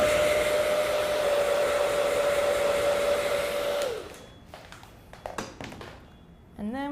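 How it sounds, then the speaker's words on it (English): A hair dryer blows steadily to speed the drying of glue on a prosthetic makeup appliance, a loud continuous whine for about four seconds before it switches off, leaving faint taps and handling noises. "What I'm gonna do is hit this with a hairdryer to speed the process up."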